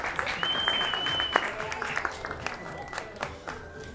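A small group at a New Year's gathering gives a short burst of applause, scattered claps fading over a few seconds while a voice and some whistling-like tones carry on over it.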